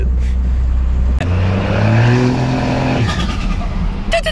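A 12 valve Cummins truck fitted with a Holset H1C turbocharger runs with a steady deep rumble. The engine revs up, and short high chirping bursts cut in near the end.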